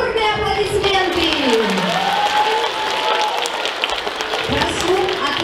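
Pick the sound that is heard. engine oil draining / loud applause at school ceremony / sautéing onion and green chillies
loud applause at school ceremony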